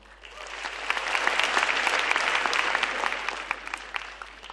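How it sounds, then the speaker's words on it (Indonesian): An audience at a televised stand-up comedy grand final breaks into applause that swells and holds steady, with crisp individual claps standing out in a dense, lively crowd. "Makanya tepuk tangan buat kita semua yang ada di sini teman-teman."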